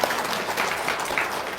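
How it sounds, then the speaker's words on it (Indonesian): A crowd claps together in a brief, steady burst of applause, a dense even patter of many hands with no voices standing out. "Tepuk tangan dulu dong."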